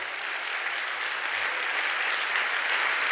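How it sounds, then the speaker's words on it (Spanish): Steady, diffuse applause from a church congregation during a sermon, a continuous wash of many hands clapping that holds even and moderate throughout. "Aleluya, dale aplauso"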